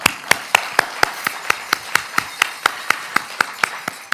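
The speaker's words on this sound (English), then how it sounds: "I think that deserves a round of applause." Hands clap at an event in a crisp, evenly spaced rhythm of about four beats per second, each clap distinct rather than blending into a dense wash of applause.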